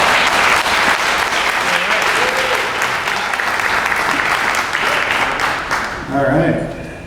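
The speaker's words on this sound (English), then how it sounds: "So, John Fleming, please give a round of applause." A roomful of people applauds steadily for John Fleming at the 70th Annual SBA Award event. The dense clapping runs for about six seconds, then thins as a voice starts speaking near the end.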